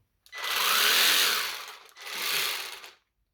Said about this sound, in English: then you have your cordless jigsaw